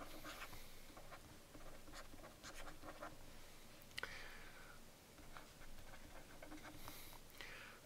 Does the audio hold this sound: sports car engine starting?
no